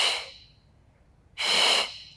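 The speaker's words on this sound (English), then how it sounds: "We exhale." Breathing during a Pilates exercise for lower back pain: a short breathy exhale, a pause, then a longer and louder exhale, both close and airy with no talk over them.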